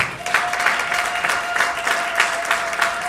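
A church congregation claps in a steady, rhythmic beat, a dense close-up patter of many hands, with a faint sustained tone running beneath.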